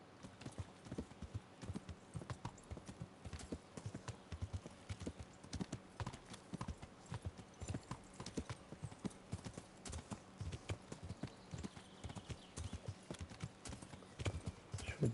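Horse hooves clip-clopping in a steady walking rhythm as a rider comes down a mountain in the video game Kingdom Come: Deliverance. The hoofbeats are fairly faint but evenly spaced throughout, and a neigh is heard once.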